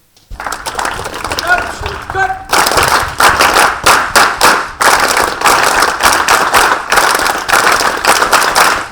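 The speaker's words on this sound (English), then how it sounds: "Let's clap for her." A classroom group claps for a student in uneven bursts, close and loud, starting with a brief voice and scattered claps before settling into a rhythmic round of applause.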